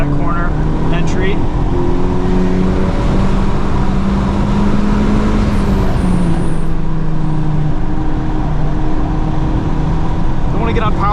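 Steady engine drone and heavy water spray from a 2023 FL5 Honda Civic Type R lapping a flooded race track on all-season tires, loud and continuous, with pitch dipping through a corner while someone speaks over it.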